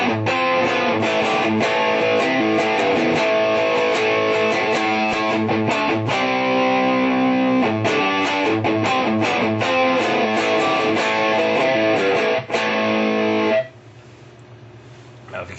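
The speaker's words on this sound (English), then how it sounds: "Now let's go to the JCM 800 model. This is a pretty good sounding distortion too." Electric guitar through the JCM 800 amp model of a Digitech RP 250 multi-effects unit, cabinet simulation off, plays a loud, continuous distorted riff with chopped chords for about thirteen seconds before cutting to near silence.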